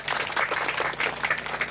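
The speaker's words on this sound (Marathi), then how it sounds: "त्यांच्यासाठी एकदा टाळ्या वाजा." Audience applause at the seventh anniversary celebration of the Shri Vitthal Rukmini temple in Suregaon, a steady moderate clatter of many hands lasting under two seconds, without pauses.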